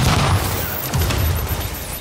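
Gunfire in the online shooter The Division, dense overlapping shots and booms packed into a loud, continuous burst with no pauses.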